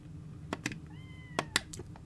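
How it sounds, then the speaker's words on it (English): A cartoonish cat meows in a video game, two short drawn-out meows rising over soft background music with a few clicky beats and chimes around them, nearby and fairly clear. "Meow."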